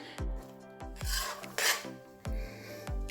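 A spatula scrapes through wheat flour, semolina and gram flour roasting in a pan, with about six rhythmic rasping strokes, close and quiet, with no voices.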